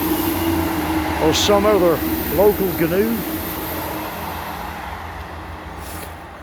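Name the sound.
train passing by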